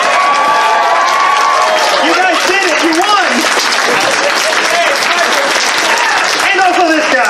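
Audience applause and cheering fill a convention closing ceremony, a dense wash of clapping with whoops and shouts, steady and loud throughout as a voice calls out over the crowd.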